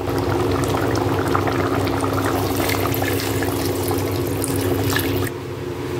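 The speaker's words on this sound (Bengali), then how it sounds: "এরপর আমি বাকি জলটা দিয়ে দেবো।" Remaining water poured into a pot of curry cooking on the stove, a steady rushing pour with a bubbling simmer underneath that continues alone for about five seconds before abruptly quietening.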